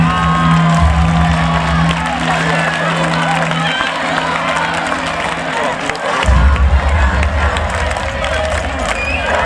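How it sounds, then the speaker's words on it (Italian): A crowd at a youth festival awards ceremony cheers and applauds for Spareta, loud and continuous with mixed voices, a steady hum, and a voice over a loudspeaker. "un applauso per Spareta"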